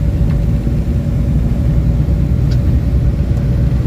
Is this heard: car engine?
yes